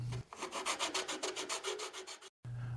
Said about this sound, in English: use a rasp or sanding blocks to fine-tune the dimensions